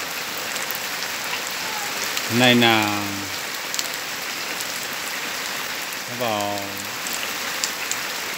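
Heavy rain pours steadily in a highland village in Vietnam, a dense, even hiss filling the whole stretch while someone speaks briefly twice over it.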